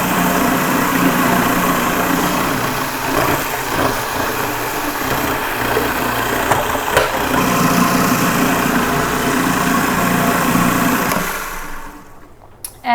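Spinach is fed through the top of a running food processor for pesto, a loud steady motor whir with chopping rattle that runs continuously and then cuts off near the end.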